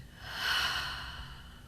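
A slow, close breath during guided meditation, one soft airy inhale swelling and then easing into a long exhale, quiet and alone without talk.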